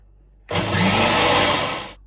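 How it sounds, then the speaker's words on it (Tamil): A kitchen wet grinder grinding soaked urad dal switches on abruptly and whirs steadily for about a second and a half before cutting off, close and fairly loud. "கிரைண்டரில் உளுந்து அரைக்க போகிறேன்."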